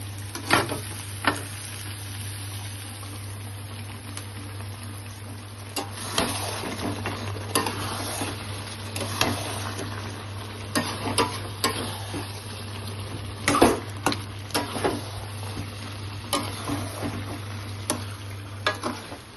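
Fried onions stirred into chicken in a pan for masala chicken: a steady low sizzle with repeated scraping and clinking stirring strokes, louder bursts in the second half, close by and with no talk.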